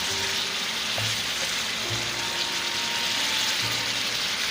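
Chicken frying in a pan for a bhindi gosht curry, a steady close hiss of sizzling oil with low stirring knocks at intervals and no talking.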